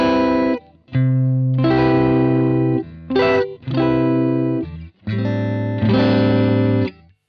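A Stratocaster-style electric guitar with three single-coil pickups plays a clean tone through a delay pedal, with a few strummed chords ringing out in phrases separated by brief pauses, bright and close.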